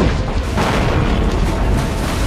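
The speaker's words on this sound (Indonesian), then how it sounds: "kapal meledak dan tenggelam." A deep, rumbling boom of a ship exploding that rolls on continuously, heavy low-end explosion noise with no voices.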